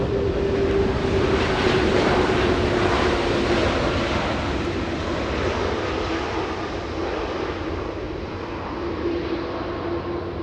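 A Qantas airliner, QF15, slows down on runway 24 right at Los Angeles International Airport, its engines making a loud, broad roar that fades slowly as it rolls out, with no talk.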